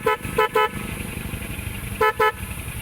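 A Type R loud horn fitted to a Honda Beat scooter sounds two quick pairs of sharp, loud toots close by, with a gap between the pairs, over a low background hum.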